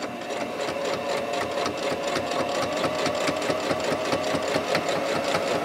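A sewing machine runs steadily, top stitching along the edge of a quilted microwave protector, its fast needle clatter and motor hum continuous and close throughout.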